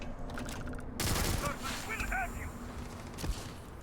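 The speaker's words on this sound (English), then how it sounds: "We're being shot by probably a turret or something." Turret gunfire in the video game Starfield, a dense burst of rapid shots that starts abruptly and rattles on with a later sharp hit, close and loud, with a voice talking over it.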